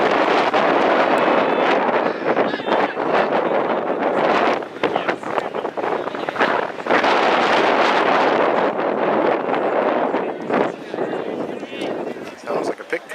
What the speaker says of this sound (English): This wind is awful.